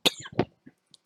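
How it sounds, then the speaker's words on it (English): A single person gives a sharp, close cough followed by a shorter second cough and a faint throat sound, brief bursts against near silence. "I really tried not to cough"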